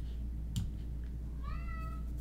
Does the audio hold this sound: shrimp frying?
no